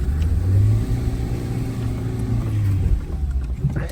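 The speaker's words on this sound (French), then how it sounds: "J'essaye d'accélérer." Engine of a Renault Clio revving as it accelerates hard, a steady loud mid-pitched drone that rises and holds, then eases with some rattling near the end; no talking.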